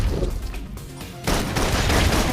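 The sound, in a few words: full suppression gunfire in video game Love and Deepspace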